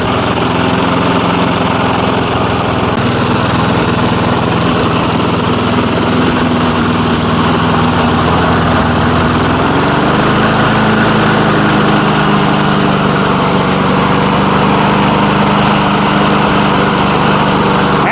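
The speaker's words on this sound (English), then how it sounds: "1996 Murray 22-inch mower, this was a success. We were able to get this one up and running again" A 1996 Murray 22-inch lawn mower, revived after ten years dormant, runs close and loud with a steady small-engine drone, its pitch shifting briefly midway as the throttle changes.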